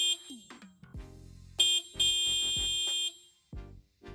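Weak stock horn of a Mercedes Sprinter van, honked in a series of short and longer blasts with a thin, buzzy, high-pitched tone, loud and close with no talk.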